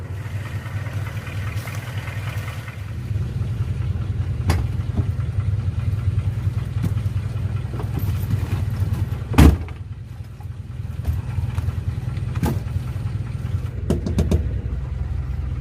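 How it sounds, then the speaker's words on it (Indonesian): Car engine running at a steady idle, a continuous low rumble with a few sharp knocks and one loud thump partway through; no talk. "Hirup langsung mobilnya oge"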